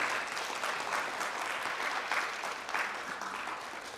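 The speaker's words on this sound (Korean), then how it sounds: "우리 박수로 한번 축하하겠습니다." A church congregation applauds during a Sunday service, a dense, even wash of many hands clapping that holds steady and fairly distant, with no voices on top.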